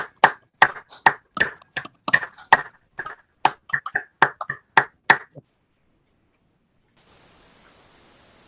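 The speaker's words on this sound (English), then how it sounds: "Quick round of applause for Ava." Brief round of applause at a board of education meeting: a small group claps in a sparse, uneven burst of distinct, fairly close hand claps for about five seconds, then silence followed by faint room hiss.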